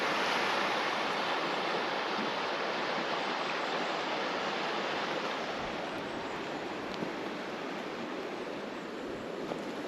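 Steady broadband rush of river water flowing beneath an iron bridge on a forest hiking route, a continuous loud wash with no pauses and no voices.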